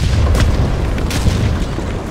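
Bombs exploding in War Thunder arcade tank combat, heard as a heavy, continuous rumbling boom with a couple of brief louder blasts on top, filling the whole moment with dense low-end roar.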